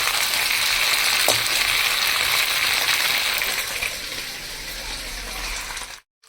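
A sauce mixture for chilli fish fries lightly in a pan, giving a steady, close hiss and sizzle that carries on evenly and then cuts off abruptly.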